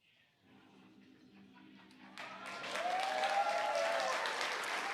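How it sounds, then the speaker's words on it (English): A crowd cheers and applauds after a SpaceX Falcon 9 first-stage booster lands, starting as a faint murmur and swelling into loud, sustained clapping and cheering that keeps building to the end. "you can probably hear the cheering behind me"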